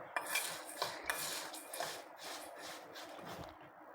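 Salted moong dal being stirred in a bowl, a soft close metallic scraping and clinking of a spoon against the dish in irregular strokes, quiet and without speech.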